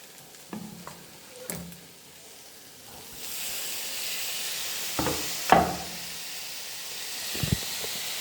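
Chopped tomatoes drop into hot oil in a pan for a chikkulu curry with senagalu. After a few utensil clinks, a steady close sizzle rises and continues, broken by occasional clatters.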